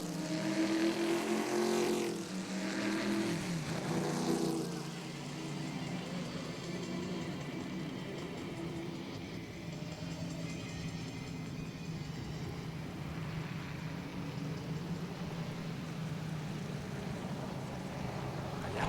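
A pack of stock cars races past on the back straight at Londrina, engines roaring loudly at first, then easing to a steady, more distant drone that carries on for many seconds.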